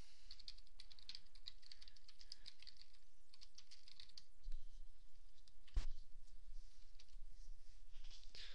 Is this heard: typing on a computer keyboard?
yes